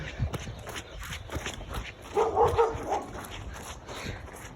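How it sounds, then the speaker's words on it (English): A dog barks outdoors in flooded woods, giving one short burst of barks in the middle among footsteps and rustling ground noise, at moderate distance. "This is a dog."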